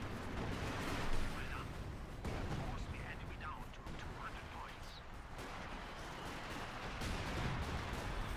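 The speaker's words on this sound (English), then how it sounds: "So much artillery, so many mortar rounds and howitzer shells and whatnot." Artillery, mortar and howitzer fire from a Company of Heroes 2 match, a steady barrage of rumbling blasts and booms under continuous commentary, with one louder thump standing out early on.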